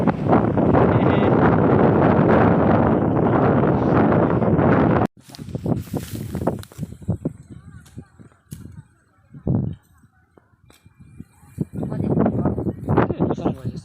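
Strong westerly wind gusting across a wheat field during harvest, a loud steady roar for the first five seconds, then broken rustling bursts with people talking, before the wind swells again.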